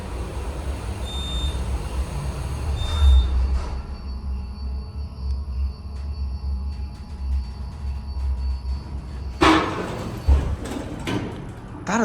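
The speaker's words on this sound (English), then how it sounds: "That is the most loudest brake sound I've ever heard." A modded Schindler 400A MRL traction elevator in a campus parking garage runs with a low rumbling hum and faint tonal whine, then its brakes set with a sudden loud clunk and scraping burst near the end.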